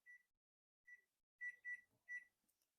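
A kitchen timer being set beside a pot of boiling toffee, giving five short, clean beeps, two spaced apart and then three in quicker succession, quiet and close in an otherwise silent room.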